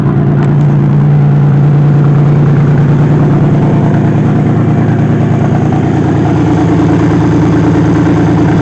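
Engine of a 2005 Honda Pilot, repaired after a faulty cam sensor, revving up loud and close from a steady idle, holding a high, even drone throughout.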